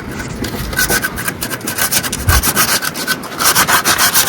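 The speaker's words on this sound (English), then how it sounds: "I use a lot of sandpaper, like this, to smooth out the faces." Sandpaper rubs steadily over a wooden carving, smoothing its faces in quick back-and-forth strokes with a loud, close, gritty rasp that runs throughout.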